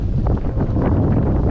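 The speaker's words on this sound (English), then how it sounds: "It's very windy." Strong wind buffets the microphone on a fishing pier, a steady loud rumbling roar with gusty rustling that fills the whole moment with no pauses.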